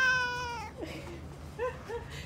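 House cat giving a long, clear, tonal meow up close, followed after a short pause by a couple of shorter chirping meows, with faint background noise and no talking.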